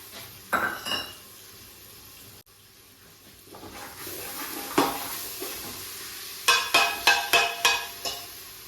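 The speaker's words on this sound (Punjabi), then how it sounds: "ਤੇ ਇਹਨਾਂ ਨੂੰ ਚੰਗੀ ਤਰ੍ਹਾਂ ਹਿਲਾ ਦੇਣਾ" Rice with peas, spices and chopped green coriander is stirred in a pot, giving a low sizzle with scraping and a quick run of sharp metallic clanks from a spoon striking the rim near the end, with no talking.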